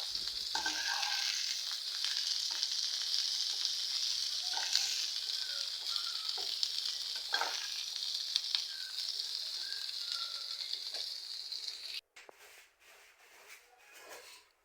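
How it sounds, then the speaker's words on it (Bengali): A little oil fries in a pan during lunch cooking with rui fish and cauliflower, a bright, continuous sizzle close by with occasional stirring knocks, then breaking into sputtering bursts near the end. "অল্প একটু তেল দিয়েছে, তেল দিয়ে হালকা ভেজে নিবে।"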